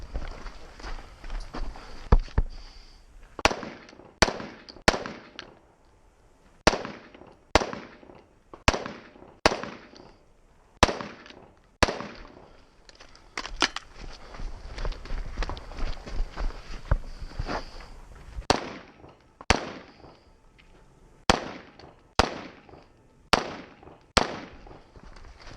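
Sharp gunshots ring out across a 2-gun action shooting stage, loud and closely spaced in irregular bursts of two to four, with short pauses between strings and no talk.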